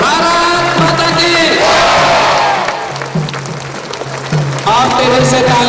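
A crowd at a rally for a district magistrate's arrival on World Tribal Day chants a slogan response in loud, rhythmic unison, with shouting and a hint of applause in a large, echoing space.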